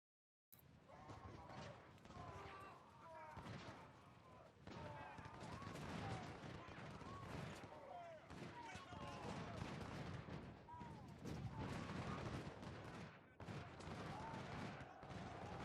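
Ongoing crackle of massed infantry musket volleys and canister shots in Ultimate General: Civil War, a dense rolling battlefield din with sharp bursts over a steady rumble, loud and continuous after a brief silent start.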